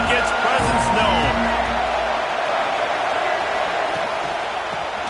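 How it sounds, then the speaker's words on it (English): Loud, dense stadium crowd roar at a Maryland versus Notre Dame college football game, a steady wash of voices with a few whoops near the start, thinning slightly toward the end. "This crowd ready to make its presence known"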